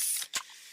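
Freshly opened can of fizzy Pepsi, heard as a quick close hiss and pop of release followed by a faint fizz, all within under a second.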